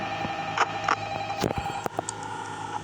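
A telephone ringing in the video game Five Nights at Freddy's 2 with a steady electronic tone, interrupted by a few sharp clicks and knocks nearby; no one speaks.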